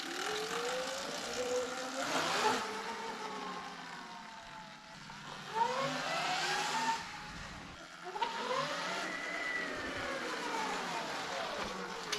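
A Sur Ron X electric dirt bike fitted with a 72v Chi battery riding past, its motor whine rising and falling in repeated sweeping pitches over steady wind and road noise, moderately distant.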